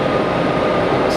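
An aircraft auxiliary power unit runs at Geneva Airport, a steady loud broadband whine and rumble with a faint high tone, constant through the moment with no change.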